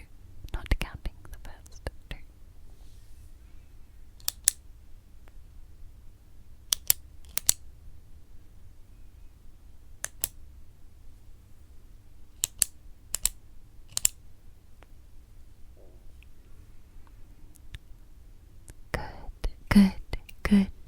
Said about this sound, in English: I want you to tell me how many clicking pen noises you hear